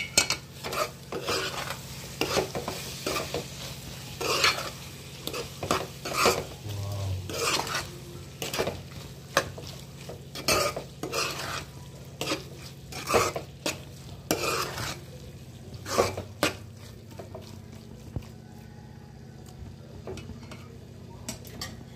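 Egg curry being stirred in a pan, a spoon scraping and tapping against the metal in irregular strokes over a soft low simmer, fairly quiet and close, with no one speaking.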